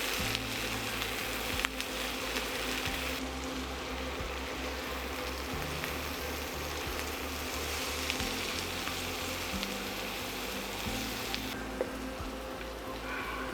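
Steady, close sizzling of hot chili pepper and pilaf ingredients frying in a pan, a continuous crackling hiss that holds evenly throughout with no talking.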